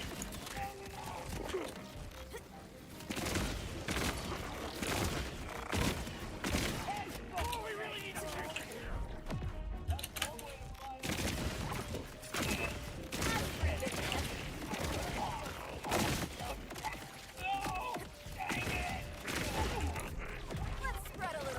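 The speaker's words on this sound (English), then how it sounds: "My fireworks like trying to target me." Fireworks burst in a continuous rapid barrage during video game play, a dense crackling fusillade filling the whole stretch, loud and close with mechanical clatter mixed in.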